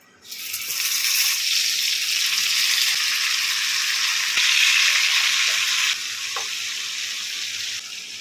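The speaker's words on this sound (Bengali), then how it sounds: "এবার এর মধ্যে মাংসের পিসগুলো এক এক করে দিয়ে দিচ্ছি" Large mutton nalli pieces hitting hot ghee over a low flame for Kashmiri rogan josh, giving a loud, steady hiss that swells slightly midway and then settles into continuous frying.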